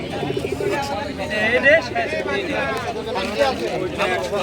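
Native domestic pigeons coo softly in repeated low calls at a busy rural pigeon market, mixed into steady crowd babble with people talking nearby.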